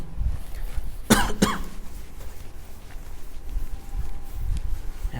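Two sharp, close coughs in quick succession stand out against faint background murmur, then quiet.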